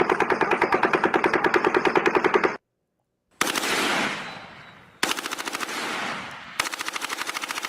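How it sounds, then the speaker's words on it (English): Recorded machine gun fire from the Las Vegas shooting at about 600 rounds per minute, long loud bursts of rapid, evenly spaced shots separated by a short silence and brief gaps, with echoing tails. "Las Vegas shooting rate of fire 10 rounds per second, 600 RPM"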